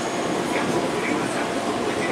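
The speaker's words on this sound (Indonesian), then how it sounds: "Kereta akan dilangsir ke jalur simpan." An electric commuter train rumbles steadily while shunting into a storage track at Rangkasbitung Station, a broad, continuous roar, close by and loud, with faint higher squeals above the rolling noise.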